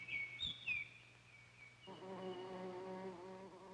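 A bee buzzes at an iris flower, a steady droning hum with a couple of brief higher chirps near the start, close and fairly faint.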